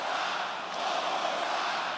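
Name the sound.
sold-out stadium wrestling crowd cheering, AEW Double or Nothing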